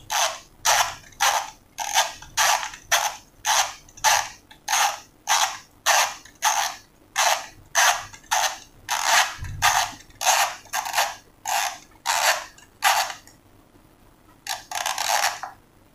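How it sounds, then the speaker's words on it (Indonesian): A Theben SUL 181 d mechanical timer dial is turned by hand, giving a long series of regular ratcheting clicks in quick bursts, close and crisp, pausing briefly near the end before a final burst. "dan untuk menyeting ke pukul 8 malam bisa kita putar."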